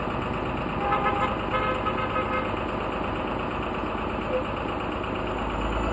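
Engines drone and rumble steadily nearby at an even level, with a brief horn-like toot early on and a continuous mechanical hum throughout.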